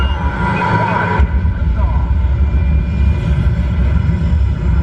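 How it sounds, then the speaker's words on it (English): Simulated rocket main engine ignition on an Epcot ride, a sudden deep heavy rumble that kicks in and swells to a loud, sustained roar, with a voice heard over the start. "We have main engine start."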